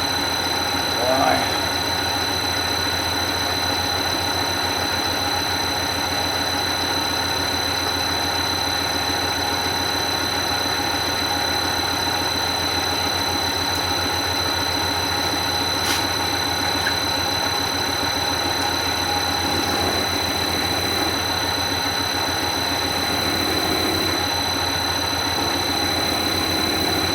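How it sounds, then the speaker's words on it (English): A lathe turns a homemade titanium suppressor part, producing a steady, unbroken machine hum with a high whine throughout as the tool cuts a chip, even in level and close. "RPM seems to be cutting a nice chip off of there."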